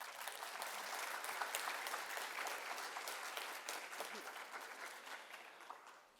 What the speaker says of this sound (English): Can you give all these amazing artists a round of applause?